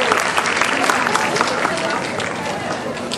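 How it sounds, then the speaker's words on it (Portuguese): Audience applause at a literary talk at the FLIP festival in Paraty, a dense, steady wash of clapping from a full room that holds at an even level throughout. "com muitos aplausos, Rosana Rios e Augusto Pessoa."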